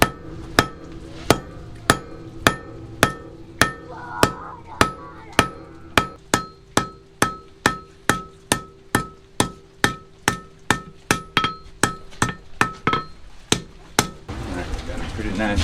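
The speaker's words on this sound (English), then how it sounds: "see how I'm spreading it just this way by using the hammer like that?" A cross peen hammer strikes hot metal on an anvil in a steady series of about thirty sharp, ringing blows, close and loud, with an even rhythm that continues until near the end.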